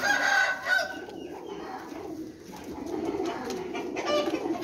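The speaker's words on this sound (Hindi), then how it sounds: "ए कबूतर देखो माशाल्लाह" Pigeons cooing and rustling at a loft, soft repeated coos mixed with light bird calls and fluttering, close and moderately loud, with some faint background noise and no speech.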